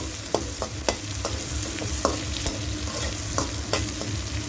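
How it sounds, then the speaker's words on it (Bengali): Onions and spices sizzle steadily in hot oil for a chicken curry, with sharp clicks of a spoon stirring and scraping the pan at irregular intervals, close and moderately loud, no voices. "ভাজা ভাজা করে নেবেন উল্টায় পাল্টায়"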